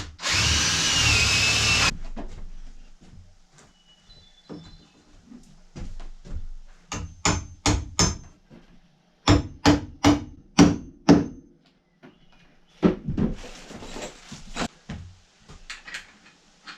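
Power drill boring holes for carriage bolts in a wooden handrail at an off-grid cabin, a loud burst of drilling at the start followed by rhythmic close hammer blows in several quick groups.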